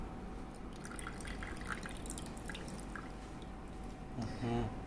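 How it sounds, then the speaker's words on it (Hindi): Water poured into a low-budget homemade water fountain makes a steady, soft trickle with faint drips, and a brief gurgle near the end. "अब इसमें मैं पानी डाल रही हूँ"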